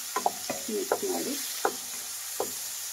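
Chopped tomatoes frying in a pan for snake gourd kootu, with a soft hiss of oil and a handful of distinct spoon knocks and scrapes as they are stirred.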